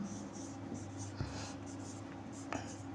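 Pen or marker writing out a maths solution for a Class 9 polynomial exercise, faint scratchy strokes in short bursts with a couple of soft taps, over a quiet low hum.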